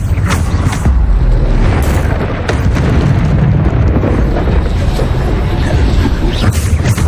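Bombarda blasting spell explosions in the Hogwarts Legacy video game make a dense, loud run of booming blasts and rumbling bursts that overlap with almost no pause.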